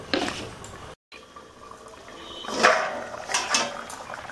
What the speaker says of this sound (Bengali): চাপা দিয়ে আর পটল আলুটা সিদ্ধ হতে দেবো।